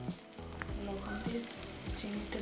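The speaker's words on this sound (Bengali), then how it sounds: "আমরা তেল দিয়ে দিব।" Oil sizzling steadily in a preheated pan before shrimp are fried with onion and green chili: a loud, continuous hiss and crackle from start to end.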